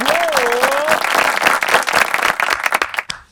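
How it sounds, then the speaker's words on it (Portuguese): Applause from a live podcast audience swells right away and holds steady as dense clapping, with a sustained voice over the first second, then thins into scattered claps before fading out. "Uma salva de palmas."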